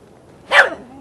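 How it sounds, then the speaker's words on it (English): A dog near a homeless camp gives a single sharp, loud bark close by, rising out of faint background noise. "We got one dog here with us, and he's taking care of everybody."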